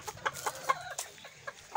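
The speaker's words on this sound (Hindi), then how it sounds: "सबसे पहले इन मुर्गियों को बाहर निकाल देते हैं" Chickens clucking softly as they are let out of their coop, a scatter of short, quiet clucks and chirps at irregular intervals, fairly close with no talking.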